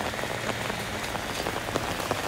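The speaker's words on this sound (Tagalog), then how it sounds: "Grabe ang ulan ngayon." Heavy rain pours during a storm, a dense, loud, continuous patter of drops drumming on surfaces with no break or voices.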